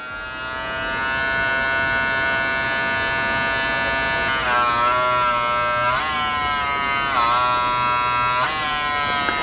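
A Wahl Vapor hair clipper with a brushless motor runs steadily and loudly on its own, holding a constant buzzing whine that dips in pitch a few times as the cutting blades are squeezed and loaded.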